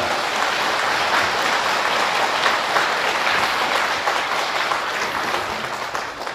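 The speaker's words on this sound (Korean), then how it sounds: "큰 박수 한번 보내주시기 바랍니다" A gathering at a Buddhist temple service gives the monks a big round of applause, steady dense clapping from many hands that holds loud throughout and eases slightly at the very end.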